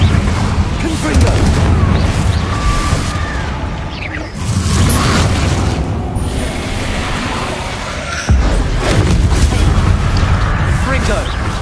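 Repeated Confringo blasting spell explosions in Hogwarts Legacy, booming whooshes and bursts arriving in waves over continuous loud battle noise, with shouted voices mixed in.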